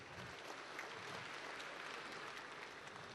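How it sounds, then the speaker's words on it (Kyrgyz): Concert audience applauding, a dense wash of clapping from many hands heard at a distance, steady and fairly faint throughout. "кол чаап коюңуздар"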